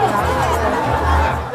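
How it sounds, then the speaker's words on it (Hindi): Crowd chatter fills the air at Mandar Hill temple, a steady babble of many voices close by with a low rumble beneath, continuous and undifferentiated throughout. "और ये रहा सीढ़ी और देखिए यहाँ पे कितना भीड़ है।"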